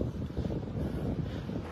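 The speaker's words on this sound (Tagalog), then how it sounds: "Medyo lumalakas ang hangin dito mga idol." Strong wind blows at the seashore, a dense, continuous low rumble buffeting the microphone without a break, loud and close, with no talk.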